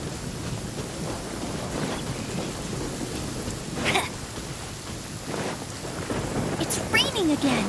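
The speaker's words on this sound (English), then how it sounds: "It's raining again." Genshin Impact video game, Mondstadt region: steady rain hisses on a surface while rumbles of thunder roll through, with a louder crack near the middle and more rumbling toward the end.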